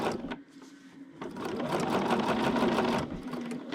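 A sewing machine runs steadily along the last long seam of a king-size quilt, its fast mechanical whir rising after a short pause and holding close and loud, with no talk.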